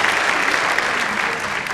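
Audience applause for Union Minister Giriraj Singh at the 25th Rashtriya Kavi Sammelan, a steady, dense wash of many hands clapping at once, sustained evenly with no talk over it.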